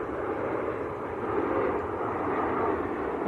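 A Ryanair airliner arriving from Madrid at Manchester Airport, heard as a steady distant jet roar with a broad rushing hum holding level throughout, no speech.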